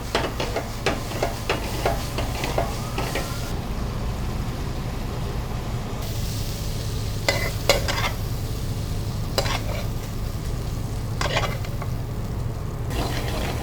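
Shrimp frying with seasoning in a hot pan, a steady sizzle running throughout with intermittent stirring scrapes and clatters close by, no talk.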